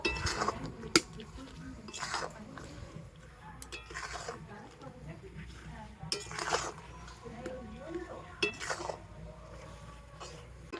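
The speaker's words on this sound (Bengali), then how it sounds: "আমি সব কিছু কিন্তু এইভাবে গুড়ের সাথে ভালো করে মিশিয়ে নিয়ে ফুটিয়ে নেব" Raw mango pickle stirred with jaggery in a pan makes soft, intermittent clinks and scrapes of a spoon against the pan, quiet and close, with faint wet squishing between strikes.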